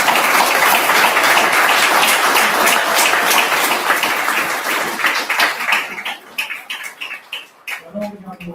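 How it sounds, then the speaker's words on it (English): Mourners at a celebration of life applaud a young man's friends, dense clapping that thins into scattered claps and then fades as voices begin to murmur near the end. "Can we give a round of applause to Jasiri's friends?"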